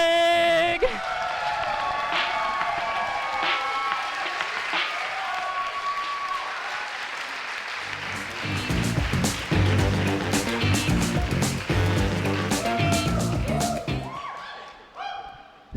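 At a comedy roast, a crowd bursts into loud applause and cheering with whoops for Ludwig, over walk-on music that shifts to a heavy beat midway, voices mixed in, before fading at the end.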